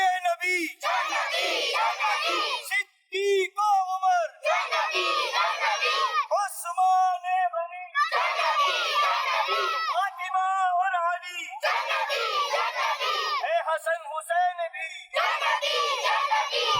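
Hundreds of madrasa children with their guardians chant slogans in unison during a tree planting in Surjani Town, loud rhythmic call-and-response bursts repeating in waves with brief pauses between.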